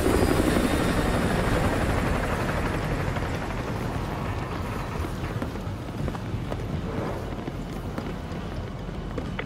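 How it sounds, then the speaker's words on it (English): Enemy helicopter in Call of Duty Modern Warfare 2 Remastered, a loud, steady rotor roar and whine that dominates throughout and eases slightly after the first couple of seconds. "Enemy helo patrolling the perimeter."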